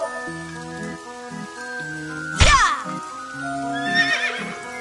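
A horse whinnies loudly in a sharp burst over a steady looping melody in the video game AI: The Somnium Files, with a fainter neigh following moments later.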